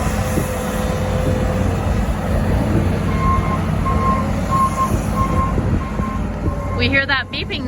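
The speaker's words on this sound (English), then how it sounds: "We hear that beeping noise from the skid loader." A loud skid loader engine rumbles steadily on a cattle farm while a high, regular reversing beep sounds repeatedly, evenly spaced.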